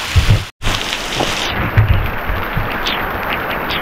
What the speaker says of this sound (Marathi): भारी पाऊस चालू आला बघा.